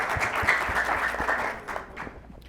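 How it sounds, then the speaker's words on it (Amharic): Applause from a children's studio audience on an Ethiopian kids' TV show, rewarding a child's correct answer: a steady burst of many hands clapping, fairly close, tapering off toward the end. "በደንብ አድርጋችሁ አጨብጭቡላት"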